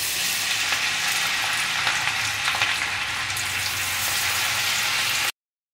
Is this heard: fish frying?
yes